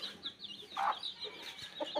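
A rooster and chickens cluck close by, with short throaty calls and a louder squawk in the middle, scattered soft clucks continuing to the end.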